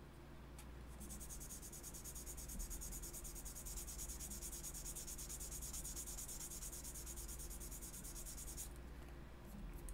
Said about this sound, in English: just some very light grit sandpaper here. And we're just going to roughen up this particular surface right here